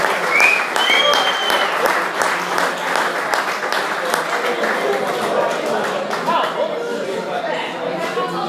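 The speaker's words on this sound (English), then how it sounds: "Big round of applause." A crowded room at a rugby league club's sponsors auction bursts into loud, continuous applause that carries on for several seconds, with voices and chatter mixed in.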